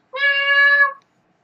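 A single short, clear meow voiced by a person imitating a cat, close and alone in silence.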